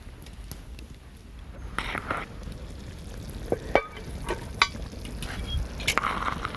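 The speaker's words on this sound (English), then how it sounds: "Oh man, this is sizzling and looking good." Soft, steady sizzling of venison cooking in a pot, with occasional scraping clicks as it is stirred; moderately close and fairly quiet.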